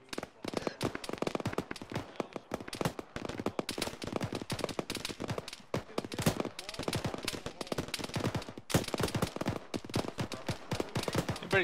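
Dense, sustained small-arms and machine-gun fire in the military video game Arma during a ShackTac squad firefight, with rapid overlapping bursts and single shots cracking continuously at varying distances for the whole stretch.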